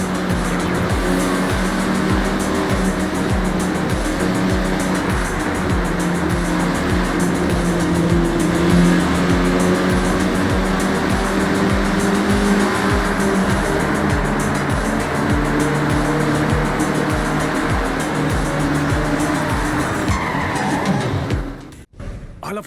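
Cars racing in Forza Horizon, engines droning loud and steady with tire squeal and road roar for a long stretch, with a voice talking over them before the sound drops away at the end.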